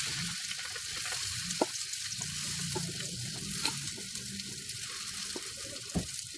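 Fish spring rolls (lumpiang isda) fry in hot cooking oil, giving a steady close sizzle with a few sharp pops and crackles scattered through, and no talking.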